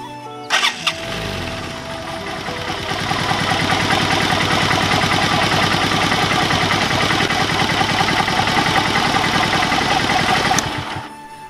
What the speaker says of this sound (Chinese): 我们可以启动发动机，通过活塞上下运动产生的那个气流，将里面残余的机油再给它吹一下